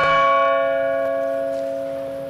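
A church bell struck once in Far Cry New Dawn rings out with a long, steady metallic ring and slowly fading harmonics, loud and alone with no voices.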